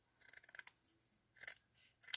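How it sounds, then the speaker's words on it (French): Fabric scissors snip through cloth in quick crisp bursts, a run of rapid cuts, a pause, then a second and a third short burst, close and quiet with no talk. "est-ce que c'est vraiment mes ciseaux tissus?"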